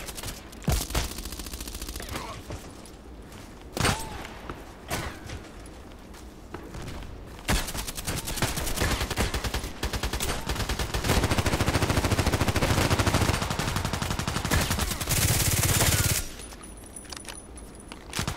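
Rapid gunfire from a video game on the Interchange map, sharp cracking shots at first then a long sustained stretch of dense firing and clatter, loud and continuous, fading at the end.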